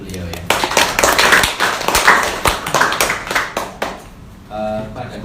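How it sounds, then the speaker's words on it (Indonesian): Clapping from a lecture audience at an Indonesian talk, a burst of uneven hand claps rising and fading over several seconds before a voice and brief tonal sound take over near the end. "Oke, tepuk tangan untuk beliau ya."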